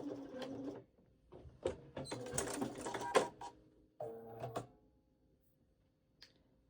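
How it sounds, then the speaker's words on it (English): A sewing machine basts the end of a waist pack in short bursts of rapid mechanical stitching, stopping and restarting with brief pauses and faint handling clicks. "I can just baste the end in place."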